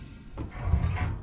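A door slides open in the underwater survival game Subnautica with a muffled mechanical whoosh and rumble that swells and lingers for about a second over faint game ambience.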